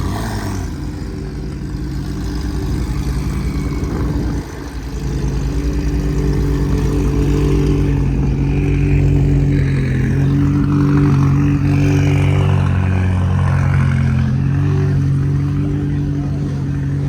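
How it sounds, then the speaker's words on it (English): Cars rev their engines as they leave a car show in pouring rain, a loud, continuous mix of rumbling motors and rising throttle swells with rain hiss underneath. "we're going to hear a lot of car revving."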